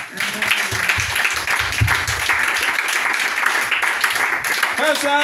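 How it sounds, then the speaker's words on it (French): A church congregation at a Sunday service in Treichville applauds together, a dense, steady roar of many hands filling the room, with a voice briefly audible at the end. "Est-ce qu'on peut applaudir Dieu pour ça?"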